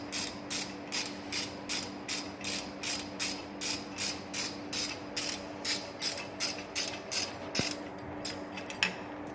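A ratchet wrench clicks in a steady, rapid rhythm of about twenty close, crisp strokes while backing out bolts from a Subaru Outback Wilderness skid plate, then slows and stops.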